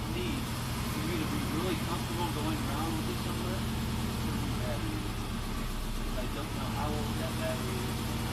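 A Subaru engine with a high-idle fault runs at about 1,000 RPM, a steady low mechanical hum that holds even throughout while someone talks over it.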